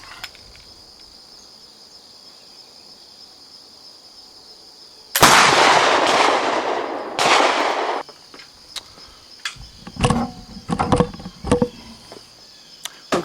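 A 12 bore flintlock fires at a man-sized silhouette target: quiet outdoor ambience with insects, then one sudden loud blast with a long roaring decay, followed by a few sharp clicks and handling knocks close by.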